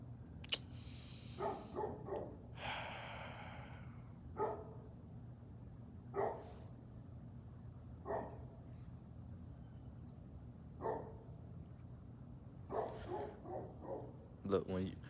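A dog barks in short, sharp bursts spaced a few seconds apart, heard outdoors over a low steady hum during a walk, with a few closer, louder barks near the end.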